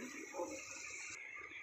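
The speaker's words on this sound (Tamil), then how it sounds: "இப்போ இதில் 1/2 டம்ளர் தண்ணி ஆட் பண்ணிக்கோங்க." Half a tumbler of water is poured into simmering mutton gravy, giving a brief, soft splashing rush.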